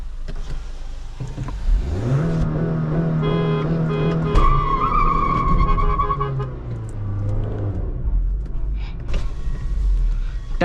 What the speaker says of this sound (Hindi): टायरों के नीचे शायद गोबर था, फिसल गई गाड़ी एकदम यूं।